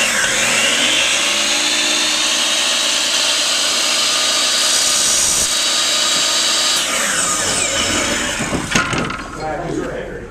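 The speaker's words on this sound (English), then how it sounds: "All you have to do is cut your dowel to the size of your coaster." Power tool cutting a wooden dowel to coaster size, a loud sustained whining motor with shifting pitch as the blade bites, ending in rattling clatter as it winds down, close up.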